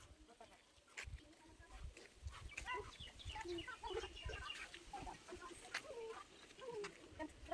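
Chickens clucking in short bursts amid a busy, faint village background, with people talking nearby.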